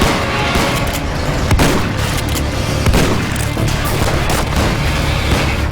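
Dense, loud gunfire from a shootout in the movie Lawless, with people behind cars firing as police and bootleggers clash, rendered as continuous booming shots and crashes over a thick rumbling soundtrack.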